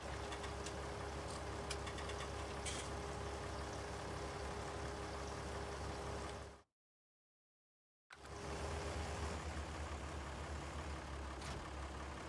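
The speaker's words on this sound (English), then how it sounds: "Oh, it is a loud tractor, isn't it?" Loud, steady tractor engine in a farming simulator game, droning continuously at close range, cutting out for about a second and a half before resuming just as loud; no talk over it.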